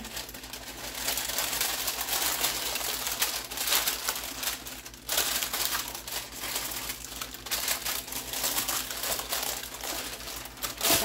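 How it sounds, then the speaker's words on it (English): Parchment paper crinkled and pressed into a baking pan for carnivore bread: continuous crackly rustling and crumpling, close and busy, with brief pauses and sharper crunches, no speech over it. "I'm not super talented with this parchment paper thing yet, but this is supposed to keep it from sticking."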